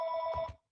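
A telephone rings during an online Hebrew class: a short electronic ringing tone with a steady high pitch, heard close and clear, that cuts off abruptly after under a second.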